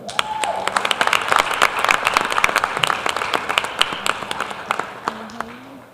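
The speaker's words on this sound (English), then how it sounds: "Give him another round of applause." A crowd at a school board meeting breaks into sustained, lively clapping that fades toward the end, with a few voices heard beneath it.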